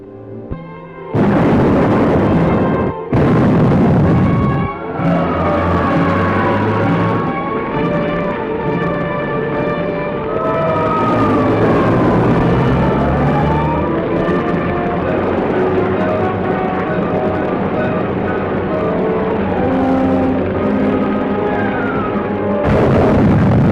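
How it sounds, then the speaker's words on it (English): Sound effects from an old serial: a heavy, rumbling explosion mixed with wailing sirens that rise and fall, loud and continuous for most of the stretch. "The explosion was felt throughout this area."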